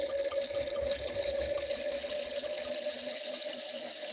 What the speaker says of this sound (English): Let's go ahead and throw it through the aerator.